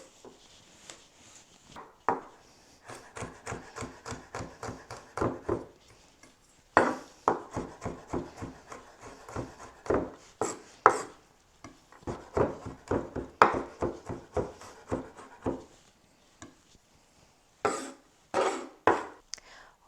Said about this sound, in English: I'm just going to chop it very, very fine.